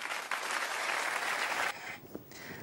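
Audience applause honoring caregivers, a dense wash of clapping that runs steadily for most of the moment and then drops away abruptly, leaving a few scattered claps.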